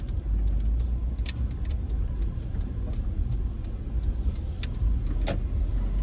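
A car drives along a city street near York and American Street, steady road and engine rumble throughout with occasional brief sharp noises of passing traffic.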